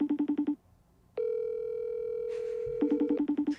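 FaceTime audio call ringing tone on a phone: bursts of short pulsed beeps, then a long steady electronic tone, then pulsed beeps again, clear and close with no talk.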